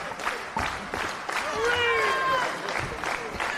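Wrestling crowd at an IWA Mid-South tag team match cheering and shouting together, a dense, steady roar with rising whistles or yells over it, sustained and fairly loud throughout.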